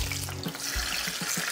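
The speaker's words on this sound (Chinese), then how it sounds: "开始放尖椒下去" Green chilli peppers fry in hot oil in a wok, a steady close sizzle with soft bursts of popping and crackling.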